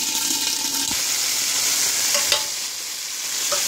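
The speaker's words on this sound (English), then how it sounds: "Okay, so I have the tomatoes are cooking." Tomatoes, a mix of cherry, grape and large ones, simmering in a covered pot for a pasta sauce, giving a steady, close bubbling hiss with a few faint clinks, no talking.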